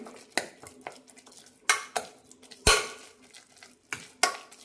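A spoon knocks and scrapes against a metal pot while mashing pressure-cooked rice for rice payasam, with several sharp clanks spaced irregularly between softer stirring scrapes.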